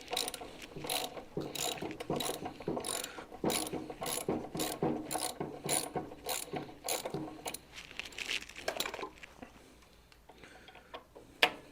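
A socket wrench ratchets a tight bolt loose on a snow blower, a close, rapid run of clicking strokes in bursts that slows and thins out near the end, with no talking.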